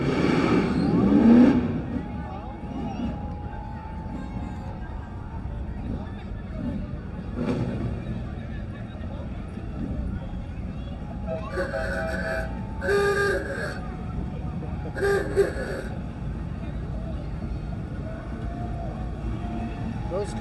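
Gold Country street rods cruise past in a Veterans Day parade in Yuba-Sutter, engines rumbling at moderate distance among crowd noise, with a narrator talking over them and a few brief bright bursts of horn-like tones later on.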